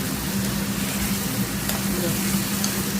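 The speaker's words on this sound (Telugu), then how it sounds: "పసుపు వేసుకొని బాగా వేగాలి." Tomato and ridge gourd frying with turmeric in a pan: a steady, close sizzle with soft crackles runs throughout, with faint stirring.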